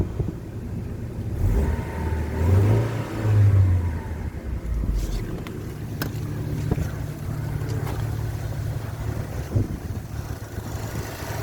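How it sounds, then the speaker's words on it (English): A classic car engine idles just after a cold start, a low steady hum with a brief rise in revs near the start, then settling into an even, quiet idle with faint background noise. "Listen to that engine."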